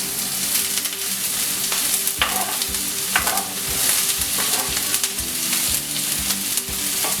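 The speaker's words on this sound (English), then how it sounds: "saute that with the garlic" Garlic sautés in oil over medium-high heat, a dense continuous sizzle with frequent stirring clatters and scrapes from a utensil, close and loud throughout, no voices.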